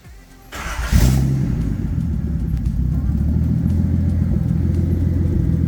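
A Datsun 280ZX Turbo with a 3-inch exhaust cold starts, cranking and catching, then settles into a loud, rumbling low-RPM idle with a deep exhaust burble that continues steadily.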